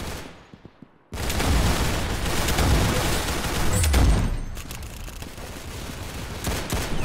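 Rapid gunfire from Roblox Arsenal, a dense barrage of shots bursting in loud after a quiet opening second and carrying on with heavy booming impacts almost without a break.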